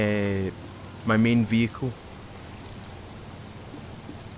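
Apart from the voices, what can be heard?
rain falling in the video game SCUM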